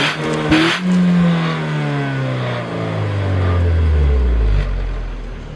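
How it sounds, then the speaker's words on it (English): 2009 Nissan Cube exhaust heard from the rear as the engine is revved, a loud rising then slowly falling drone with a short initial blip, close up and with no speech. "Here is the sound of the exhaust system from the back when I rev it up."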